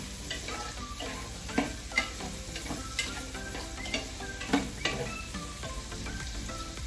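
Bok choy boils and sizzles steadily in a pan, with scattered clicks and clinks of a utensil stirring, fairly close and without talk.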